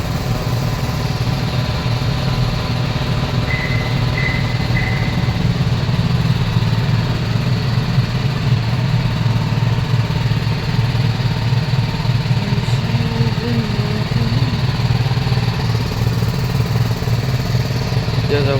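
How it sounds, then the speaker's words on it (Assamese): A BMW motorcycle engine idles steadily at close range, a continuous low rumble held evenly throughout with no revving. "বাইকখন ষ্টাৰ্ট দি আছে"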